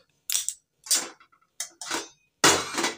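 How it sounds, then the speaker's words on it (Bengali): A gas stove being lit in a home kitchen while cooking egg curry: a handful of sharp, close ignition clicks and bursts that come in quick separate spurts with short silences between them. "গ্যাসটা ধরিয়ে নিয়ে দেখতে থাকো।"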